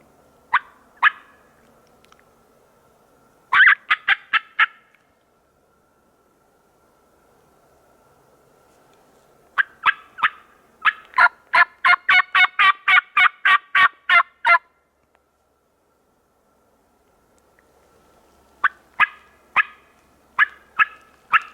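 Wild turkey gobbler in spring woods, Pennsylvania, sounding several loud rattling gobbles in bursts, with a long rapid run of calls in the middle and quieter stretches of woodland between.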